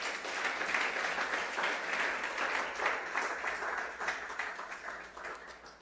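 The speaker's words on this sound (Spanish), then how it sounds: "Den un aplauso al Señor." A church congregation applauds together in a steady, continuous wash of clapping, heard from a moderate distance with no voices over it.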